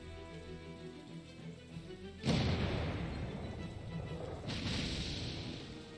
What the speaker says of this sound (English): it's the bombarding of the French!